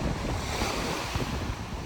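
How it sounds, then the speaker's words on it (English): Strong wind buffets the microphone over the rush of surf at Panama City Beach, a dense continuous roar with no voices. "It's been kind of really windy these last few days."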